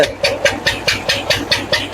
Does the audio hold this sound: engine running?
yes